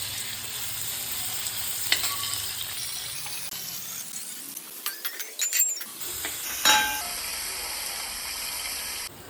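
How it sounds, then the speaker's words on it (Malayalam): Onions frying in a pan for biryani give a faint, soft sizzle, broken by a few stirring clicks and scrapes partway through, with no voices. "നമ്മൾ ഉള്ളി മൂപ്പിച്ചെടുക്കുകയാണ്."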